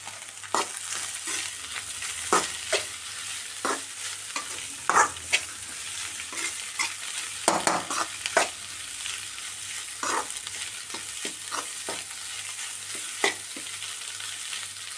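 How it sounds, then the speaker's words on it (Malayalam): Turmeric and chili powder being stirred into a frying curry of tapioca and egg, a steady sizzle broken by irregular scraping strokes of a spoon against the pan, close and fairly loud with no voices. "ഒരു 1/4 സ്പൂൺ മഞ്ഞൾപ്പൊടി, 1 സ്പൂൺ മുളക് പൊടി നന്നായി മിക്സാക്കി കൊടുക്കാം."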